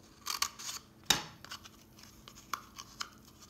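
Scissors snip through a cardboard tube for a craft animal, a few sharp close cuts scattered among quieter rustling and handling of the paper.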